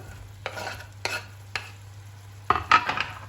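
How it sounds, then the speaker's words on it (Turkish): Onions going into a hot pan while taco filling is cooked, giving several short separate bursts of sizzle and stirring clatter, moderately close, with no talk. "Şimdi soğanları ekliyorum."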